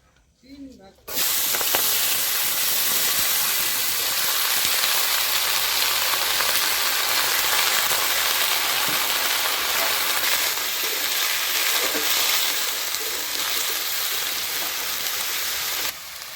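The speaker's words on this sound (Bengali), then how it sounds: "এখানে আছে পেঁয়াজ কুলি, আলু, কপি একসঙ্গে ভাজে নেব" Onion, potato and cauliflower fry together in oil in a wok, giving a loud, steady hiss and sizzle that starts abruptly and holds evenly throughout.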